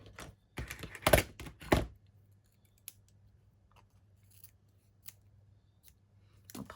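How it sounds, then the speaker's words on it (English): Scissors snip through a paper ruffle while making Tim Holtz journal cards, a few close, crisp cuts in quick succession followed by faint light taps and a quiet room. "So I'm going to cut that off."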